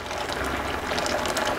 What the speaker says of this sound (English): So we're just going to add a little more water.